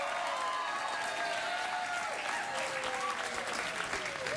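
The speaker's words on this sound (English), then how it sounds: "All that clapping and cheering" Studio audience of a late-night TV talk show clapping and cheering, a sustained, loud wash of applause with whoops and shouts throughout.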